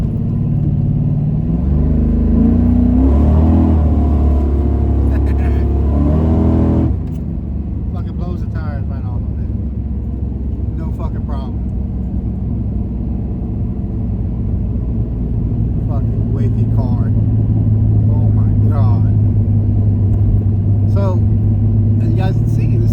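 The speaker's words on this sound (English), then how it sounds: "let me fire it up and let you guys hear this thing idle" A car engine rumbles loudly, revs briefly, then settles into a steady low idle with occasional clicks and small sounds over it.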